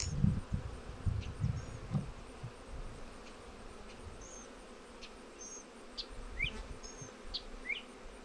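Honey bees buzz in a nucleus box as they are about to be shaken into a hive: a steady, close, low drone with louder swells near the start and end, and faint bird chirps far off in the background.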